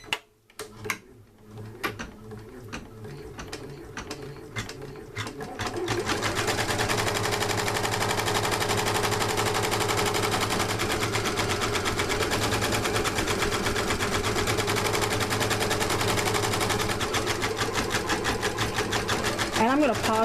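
An embroidery machine sewing a patch design, starting after a few clicks and beeps, then running as a loud, steady, rapid needle chatter for the rest of the clip.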